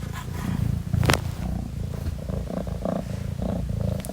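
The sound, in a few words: cat Andromeda purring loudly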